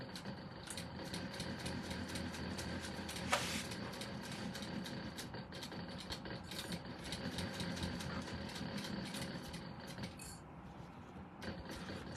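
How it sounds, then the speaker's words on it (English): A sewing machine runs while stitching a clear vinyl zipper pouch, giving a quiet, continuous mechanical whir with rapid rhythmic ticking and one brief louder knock. "So apparently this is very easy to sew on this machine."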